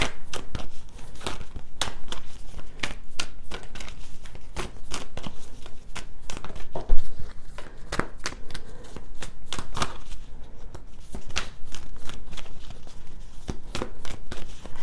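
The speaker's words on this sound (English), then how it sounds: "And I do shuffle until the energy leaves the deck." A tarot card deck being shuffled by hand in repeated quick riffles and cuts, close and crisp, continuing for the full stretch without speech.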